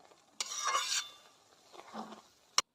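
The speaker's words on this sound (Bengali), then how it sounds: "ঢাকনা খুলে একটু ঘেঁটে দেওয়া হচ্ছে" Taro stem curry is stirred in a pot after the lid comes off, giving two short bursts of scraping and rubbing from a spoon against the pot, ending with a sharp metallic clink.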